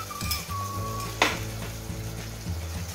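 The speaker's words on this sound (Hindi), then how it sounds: "अब इसमें हम 2 टमाटर की प्यूरी डालेंगे" Tomato puree from two medium tomatoes poured into a hot pan of ground onion, giving a loud hiss and sizzle with a sharp splash burst partway through, steady frying crackle continuing after, with a faint tone early on.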